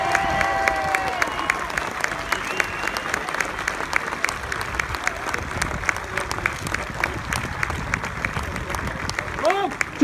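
Crowd applause rings out at a Royal Engineers bridge building demonstration during an Armed Forces Day event in Liverpool, many hands clapping steadily for several seconds, with a few voices and light cheering mixed in.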